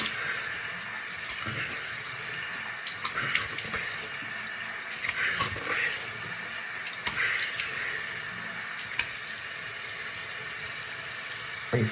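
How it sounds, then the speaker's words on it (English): A tap runs steadily into a sink while a face is rinsed, giving a continuous close hiss of flowing water with occasional small splashes and no speech. "now I'm going to rinse my face off"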